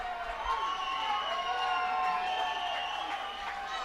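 A baseball stadium crowd cheers as a carrot mascot from a vegetable race whips them up, a steady wash of distant shouting and cheering with no lulls.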